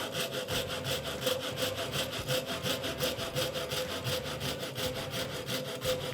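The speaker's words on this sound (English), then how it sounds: "If you have one of these little wire coping saws, they work wonders." A small wire coping saw cuts wood for a cell phone stand in quick, even strokes, a rhythmic rasping repeated about three times a second. It is close and fairly quiet, with no talking.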